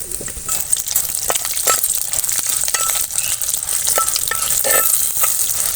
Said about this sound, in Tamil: இந்த உளுந்தும் கடலப்பருப்பும் நல்லா செவக்கட்டும்